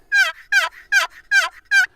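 A box call imitating a wild turkey yelp sounds out in five evenly spaced, raspy, high-pitched notes, loud and close in a steady rhythm.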